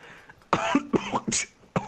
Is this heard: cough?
yes